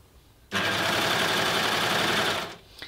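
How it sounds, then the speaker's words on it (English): An overlocker stitches a seam on a jersey knit dress, starting abruptly into a steady, loud, close whirring run of about two seconds that then winds down. "your machine struggles a little bit to get over this seam"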